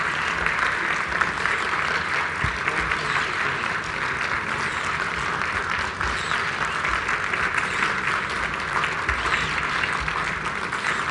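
Steady, sustained applause from an audience at a technology event, a dense wash of clapping that holds at an even level throughout without pause.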